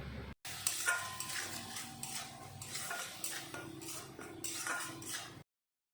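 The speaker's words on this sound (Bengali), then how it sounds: "এখন ভালো করে সব মশলাগুলো আমি কষিয়ে নেব।" Ground spices (cumin, turmeric and red chili powder, with salt) are stirred and fried in a pan for a duck egg curry: a spoon scrapes and clinks rhythmically against the pan over a soft, steady sizzle.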